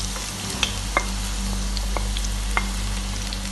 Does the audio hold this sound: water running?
no